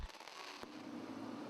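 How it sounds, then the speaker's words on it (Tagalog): Fireworks pop and crackle at a Christmas nativity display, a faint scattered burst with one sharp bang partway through, heard at a distance with no voices. "May fireworks pa."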